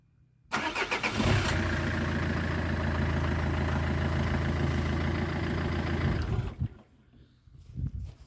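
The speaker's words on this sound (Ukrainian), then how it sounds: "Заведу машину." A Citroën Jumpy / Fiat Scudo / Peugeot Expert van engine cranks briefly and catches, then settles into a steady, loud idle close by for several seconds before cutting off.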